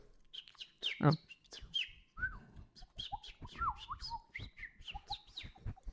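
A human voice imitates a sparrow, giving a run of short, high chirps and tweets in quick, uneven bursts, close and fairly loud, with speech nearby.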